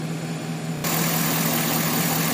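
A 2010 GMC Sierra engine idles with a misfire in cylinder eight, a close, steady mechanical hum that jumps abruptly louder and harsher partway through and stays there.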